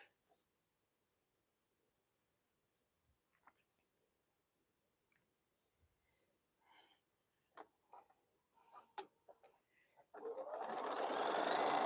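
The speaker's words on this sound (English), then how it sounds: "We want to sew this piece together." Sewing machine stitching crumb-pieced quilt scraps together, starting after scattered faint clicks and handling noises and running as a loud, steady whir through the last couple of seconds.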